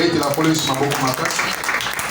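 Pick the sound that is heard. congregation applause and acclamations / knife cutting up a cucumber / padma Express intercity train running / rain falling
congregation applause and acclamations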